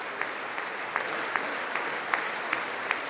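A large audience keeps clapping at a State of the Union address, a dense, even roar of applause from across a big hall with occasional louder claps standing out, heard alone without speech.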